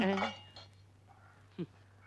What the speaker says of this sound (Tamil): நான் பாத்திரம் தானே தேய்க்கிறேன்.